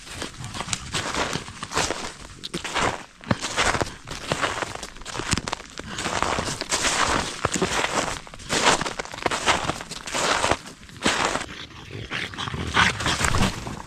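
Dogs moving through a winter forest, with paws and footsteps crunching close by, occasional whimpers, yips and low growls, steady rustling activity throughout.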